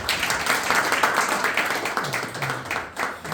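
A church audience applauds in a hall, a dense burst of many hands clapping that stays loud for a few seconds and then thins out, with a voice talking faintly beneath.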